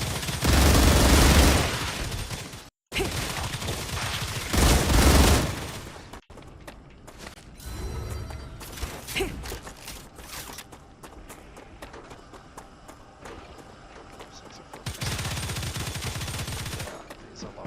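Gunfire in the sci-fi game StarRupture: loud sustained bursts of automatic fire with sharp cut-offs, then scattered lighter single shots and clatter before another heavy burst near the end.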